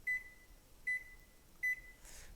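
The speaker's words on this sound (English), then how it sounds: "So we're going to start a timer for 60 minutes." Three short, clear electronic beeps in an even rhythm as a 60-minute timer is set for the boil of a Brooklyn Brew Shop one-gallon all-grain beer kit, with a soft rustle at the end in a quiet room.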